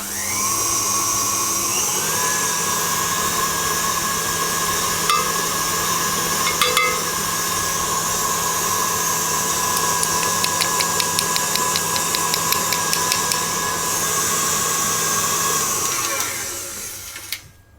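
An electric whisk beats meringue to stiff peaks in a bowl, a loud, steady motor whine running almost continuously, shifting pitch slightly partway through and cutting off at the end.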